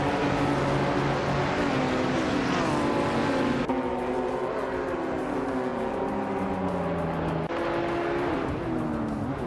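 A 2016 Subaru Impreza WRX STI races in a video game on the Mugello Short circuit, its engine loud and continuous, revving and shifting with rising and falling pitch alongside other cars.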